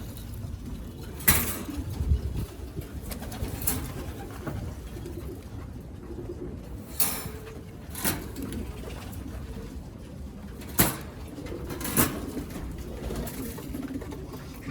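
Pigeons in a loft cooing softly and continuously under steady ambient noise, with several louder flaps or bumps from the birds standing out at intervals.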